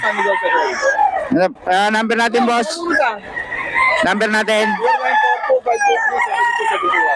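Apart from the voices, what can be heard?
roosters crowing and clucking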